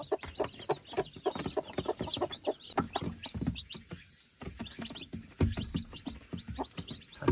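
Close clucking from a hen with her newly hatched chicks, steady and busy, mixed with a dense scatter of high chick peeps over several seconds, with a brief lull midway.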